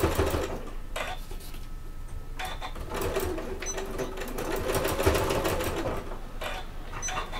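A sewing machine stitches a bag in a loud, steady mechanical whir with short pauses and restarts, close by, with no voices.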